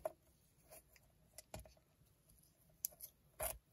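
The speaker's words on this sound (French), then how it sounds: "Je vais couper le surplus." Scissors snip through excess paper trimmed from a junk journal embellishment made from recycled toilet paper rolls, a few quiet, sharp cuts spaced apart at close range with no talking.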